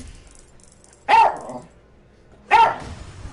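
A dog barks twice, loud and close, with the two sharp barks spaced over a second apart and quiet background between them.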